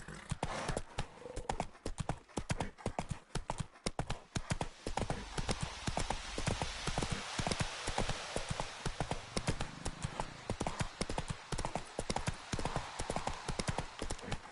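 Horse hooves galloping in The Witcher 3, a fast continuous clip-clop rhythm close and loud throughout, with faint background ambience.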